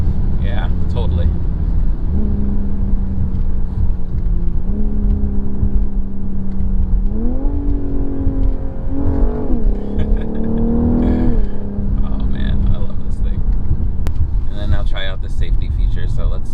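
A 2021 BMW M440i accelerates from inside the cabin, its engine note rising in several steady steps through upshifts, with talking over the top.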